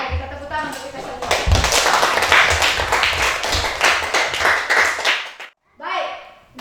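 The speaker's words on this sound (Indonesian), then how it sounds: "kita tepuk tangan untuk kita semua" A class of children claps together for the group after finishing a simple plastic-waste recycling project, loud and close with brisk, busy hand claps and kids' voices mixed in, cutting off abruptly before a brief voice returns.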